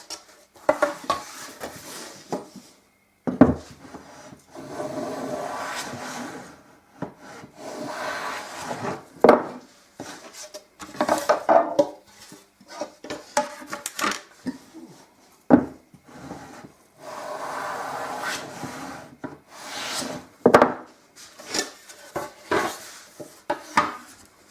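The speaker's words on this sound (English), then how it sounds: "I've got to concentrate on just taking a few shavings out of the middle and leaving the" Hand tool taking shavings from the middle of a wooden mandolin soundboard, producing irregular bursts of scraping and rubbing strokes with short pauses between them, close and fairly loud.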